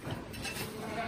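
A goat bleats once on the morning of Eid-ul-Adha, a short, wavering cry at moderate distance over faint background noise and distant clinks.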